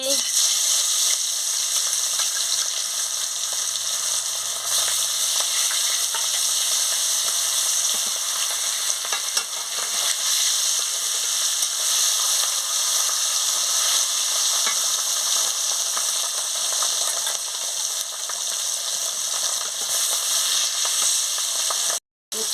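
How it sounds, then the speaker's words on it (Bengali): Pieces of katla fish frying in hot oil in a karahi over a lit stove, a long, even, loud sizzle with faint clicking and stirring, cut off abruptly at the end, no speech. "কড়া গরম হয়ে গেছে আমি তেলটা দিয়ে দিচ্ছি আমি মাছটা দিয়ে দিচ্ছি"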